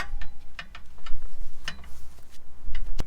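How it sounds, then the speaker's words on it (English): A Pittsburgh 90-tooth ratchet clicking in quick, uneven bursts of sharp close ticks, loud and alone against low background rumble. "It's just a Pittsburgh, but 90 tooth ratchet"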